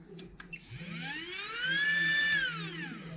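A small lathe motor powered from a bench power supply spins up with a rising whine, holds a high steady tone, then winds down slightly, preceded by a couple of brief clicks.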